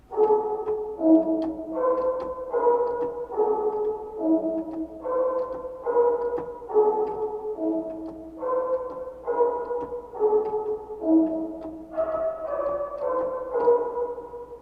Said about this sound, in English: that sound is legitimately the squeak sound right before Garrett popped